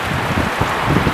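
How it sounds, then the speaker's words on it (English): Heavy rain pours down in a freak summer storm in the Antelope Valley, a steady dense roar of downpour with wind, continuous and close, no voices. "I've never seen this much rain in the 4 years that I've been here."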